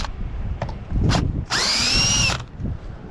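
A power drill used as a screw gun backs screws out of a razor clam gun during a rebuild: a few light knocks, then a loud, close whirring spin lasting under a second before it stops.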